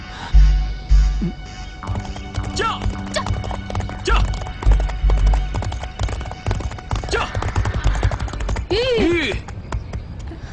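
Steady clip-clop of horse hooves, with a horse whinnying near the end and voices talking in the background.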